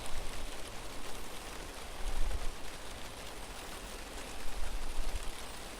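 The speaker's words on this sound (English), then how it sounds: "Rain after a long dry spell." Steady rain after a long dry spell patters in a dense, even hiss, with a few slightly louder bursts.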